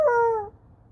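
A person's voice imitates a wolf howl, giving a single short, high-pitched, clear tone that fades quickly into quiet.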